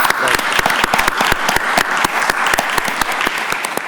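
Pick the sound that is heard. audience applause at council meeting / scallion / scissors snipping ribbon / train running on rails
audience applause at council meeting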